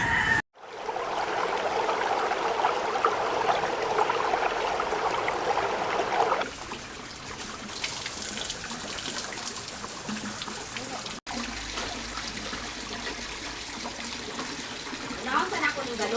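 Water flowing continuously from an unlimited supply in a rural province, a steady broadband rush running throughout, softer after the first few seconds, with faint birds and chickens in the background.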